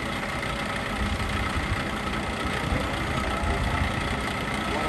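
A LeBlond heavy duty engine lathe with 48-inch centers runs steadily, a continuous, even mechanical hum and whir at close range with no breaks.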